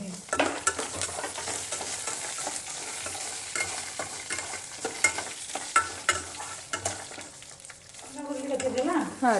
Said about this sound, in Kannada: ಆಲ್ಮೋಸ್ಟ್ ಏನೇನು ಶೇಂಗಾ ಹುರಿದಿರ್ತಾವೆ